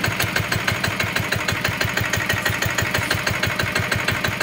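A Zanma SS 70 engine runs steadily up close, its fast, even pulsing firing rhythm loud and constant throughout, with no voices over it.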